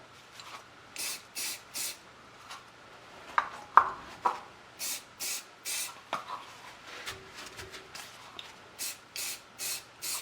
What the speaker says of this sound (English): Spray a little accelerator on there.